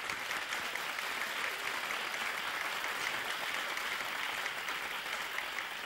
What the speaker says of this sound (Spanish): un aplauso para los tres caballeros